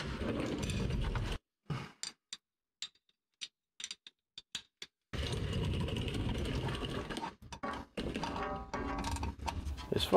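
Mechanical tightening of a fuel filter cap on a Ford 6.0 liter diesel engine, with steady loud whirring bursts broken by a stretch of quick clicking, ratchet-like ticks close by.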